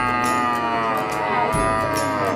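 A cow lows in a long, steady, tonal call at a Javanese cattle market, loud and close, with faint crowd murmur underneath.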